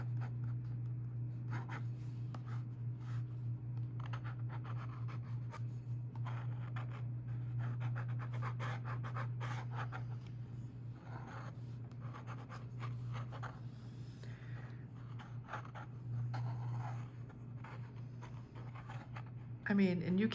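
A Kakimori brass dip pen nib scratches across paper during sketching, soft strokes repeating steadily over a constant low hum.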